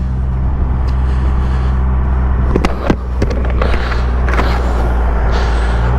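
The three-cylinder engine of a 2021 Triumph Rocket 3 GT, a heavy 649-pound motorcycle, giving a steady deep rumble under way, heard close with wind noise and a few brief clicks and knocks.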